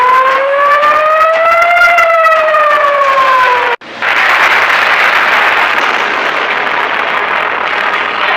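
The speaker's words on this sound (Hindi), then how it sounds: "क्या तेहरान में युद्ध का सायरन बजने वाला है?" A loud civil defense war siren wails, rising and falling in pitch, then cuts abruptly into a dense roaring noise that continues steadily.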